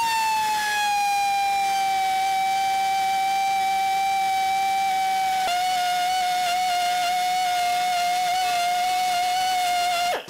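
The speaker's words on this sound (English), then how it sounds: "we got a die grinder here and we got a long 6-inch double burr cutting wheel, and we're gonna port these heads with them" A die grinder fitted with a long 6-inch double burr cutting wheel ports cylinder heads for a 5.3L V8, giving a steady, high-pitched, close whine that dips slightly in pitch under load and runs without pause.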